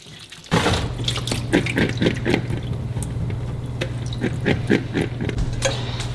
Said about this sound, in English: get the water running